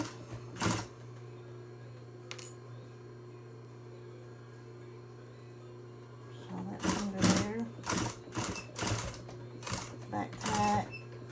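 A sewing machine stitches a fabric mask in several short bursts, quiet at first and then a rapid run of stop-start stitching near the end, with a steady background hum throughout.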